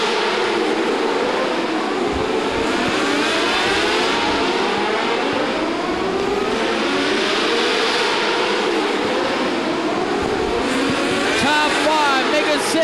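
Non-winged mini sprint race cars roar together around an indoor track at the green flag of a Midwest Indoor Racing Series feature, a loud continuous engine din with pitch sweeping up and down as the pack passes.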